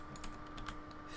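Soft, rapid tapping of computer keyboard keys in an irregular rhythm, faint under a steady background hum.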